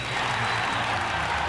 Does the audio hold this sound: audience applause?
yes